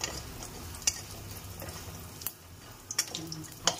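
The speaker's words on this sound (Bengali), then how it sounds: "বড়িগুলো একটু ভাজা ভাজা করে কুচিয়ে রাখবো।" Bori, small dried lentil dumplings, fry in a pan under a soft, low sizzle, with a few sharp clicks and scrapes of a spatula stirring them, close by and quiet, with no talking.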